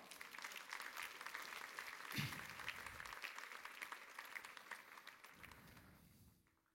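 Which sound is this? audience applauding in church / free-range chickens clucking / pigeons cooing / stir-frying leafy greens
audience applauding in church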